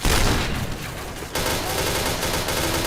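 Gunfire in the shooter video game Point Blank, with a loud burst of rapid shots at the start, then continued dense firing and crackling action throughout.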